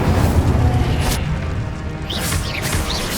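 The Incendio fire spell in Hogwarts Legacy bursts with a heavy whooshing boom that rolls and fades, followed by crackling flame and a few brief magical flourishes.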